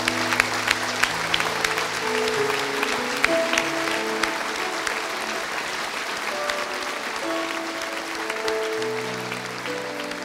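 An audience at a church ministry anniversary celebration applauds warmly for minister José Serra, a sustained wash of dense clapping that holds steady for about ten seconds, with faint voices mixed in.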